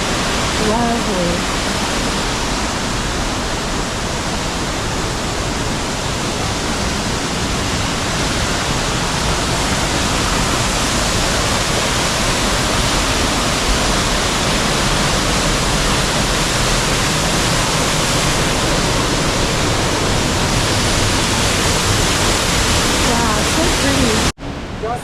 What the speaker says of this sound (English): they might have diverted some water from the creek to make a nice waterfall through here